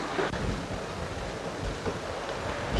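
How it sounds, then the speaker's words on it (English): Steady outdoor wind roars and buffets across the open range, loud and continuous with gusty swells, rushing over the microphone with no other sound standing out. "Is it always windy like this out here?"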